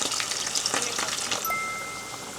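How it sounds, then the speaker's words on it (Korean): Potatoes sizzle and crackle steadily in hot oil close up, a dense hissing frying sound that eases slightly toward the end. "감자 튀기면 왜 이렇게 맛있을까요?"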